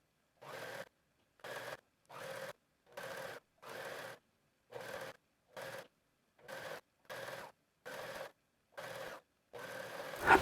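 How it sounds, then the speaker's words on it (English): A sewing machine or serger stitching a long stretchy fabric tie runs in short, evenly spaced bursts, about a dozen quiet mechanical whirring runs separated by pauses, close and alone. "I'm going to go to my sewing machine or to my serger"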